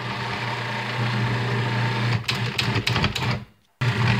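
Kitchen machine kneading bánh mì baguette dough, a steady motorized whir and hum that breaks into choppy, straining bursts before a brief stop and restart.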